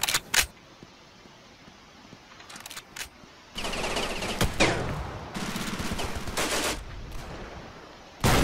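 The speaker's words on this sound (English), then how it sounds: "Let's get the Vickers machine gun" A Vickers machine gun fires in the video game Ravenfield during trench warfare, with short sharp bursts early on, then longer sustained automatic fire broken by brief pauses.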